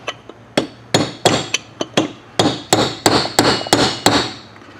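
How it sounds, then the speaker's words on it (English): Sharp metallic hammer taps on a Polaris Ranger 500 water pump seal, about fourteen close, ringing strikes in an uneven rhythm, some light and some heavier, with no talking. "So I'm going to go ahead and give this a few taps here."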